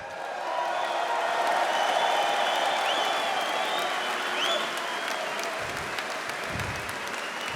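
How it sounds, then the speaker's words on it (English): A huge arm wrestling crowd bursts into sustained applause, a dense wall of clapping with scattered whistles and cheers that swells and holds loud for several seconds before thinning slightly. "So give yourselves a big hand"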